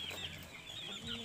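Free-range village chickens at a small home farm cluck briefly and softly in the background.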